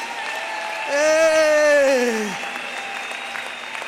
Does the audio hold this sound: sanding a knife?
no